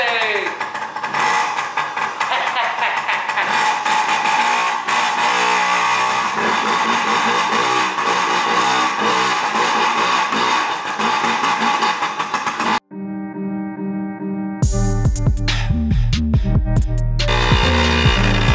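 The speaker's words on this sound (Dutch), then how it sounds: "Ik zal die brommer dus even aantrappen." A small moped engine is kick-started and runs with a buzzing, fluttering idle, then revs up sharply near the end, loud and close.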